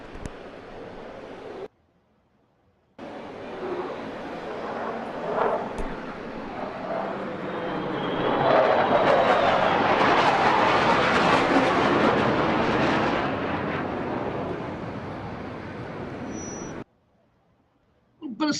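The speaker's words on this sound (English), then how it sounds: "perfectly timed flyover by some American military war machines" American military war aircraft roar overhead in a flyover, the sound swelling to a loud sustained rush midway and lingering before fading, with scattered voices and crowd noise underneath and brief silent gaps near the start and end.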